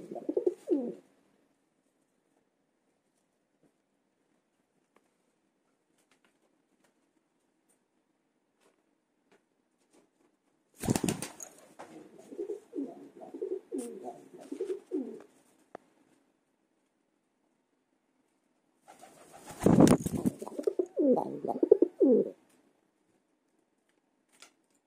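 Pigeons coo in soft, throaty bursts at a nest, close by, with two sharp wing flaps or rustles opening longer cooing runs amid otherwise quiet gaps.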